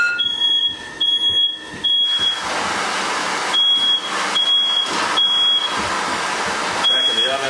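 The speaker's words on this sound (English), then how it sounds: "smoke alarm," A kitchen smoke alarm chirps in repeated short, shrill beeps during cooking of leftover chicken and Yorkshire batter in a hot pan, the beeps coming in clusters over a steady background hiss, with a person talking between them.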